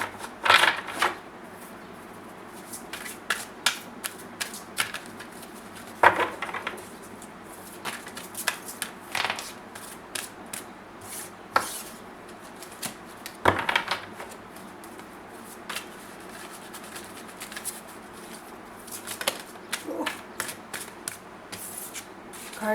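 A tarot card deck is shuffled close by, with many short, crisp flicks and slides of cards in an irregular rhythm and a few louder riffles, under faint room hiss.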